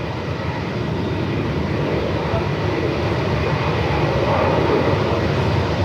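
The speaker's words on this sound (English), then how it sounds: "The 321 Neo XLR." An Airbus A321neo XLR landing at Melbourne Airport in 45-knot winds, a loud continuous engine roar mixed with heavy wind rumble, steady throughout with no talk.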